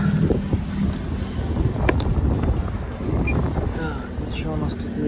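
Steady wind buffeting the microphone with a low rumble throughout, faint clicks and rustles on top.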